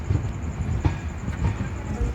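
A train rumbling at Khed station in the Konkan, a steady low drone with a faint hiss and soft rail clatter.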